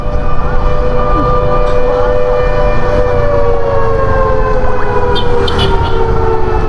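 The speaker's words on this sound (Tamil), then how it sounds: "5 மணிக்கு வந்து இந்த மாதிரி அலாரம் போல் அடிக்கும் போலங்க" Alarm siren sounding at five o'clock on the road near Catherine Falls, a long steady wailing tone that drifts in pitch, loud and continuous over road and vehicle noise.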